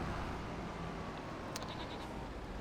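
Goats on a Farming Simulator 25 farm, bleating faintly over a steady wash of ambient game noise; a few short, thin calls stand out briefly near the middle.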